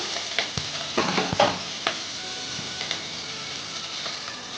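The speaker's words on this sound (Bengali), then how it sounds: "তেজপাতা দিলাম কাঁচা লঙ্কা কেটে দিলাম দিয়ে এটাকে এক মিনিটের মতো নেড়ে নেবো" Bay leaf and chopped green chili being stir-fried in a pan for an egg and cauliflower curry, a soft sizzle under a few sharp scrapes and clinks of a spatula, with quieter stirring afterwards.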